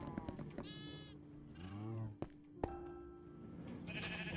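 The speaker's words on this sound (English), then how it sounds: "since I do have some sheep that are being sheared" Sheep in the Minecraft video game bleat a few times at a wool farm, quiet and intermittent, amid clicks and other soft game sounds.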